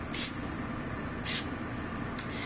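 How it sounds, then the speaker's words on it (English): Three quick hissing spritzes from a spray bottle misting a face, close and soft, the last one shortest, over a faint steady background hum. "spray my face super lightly"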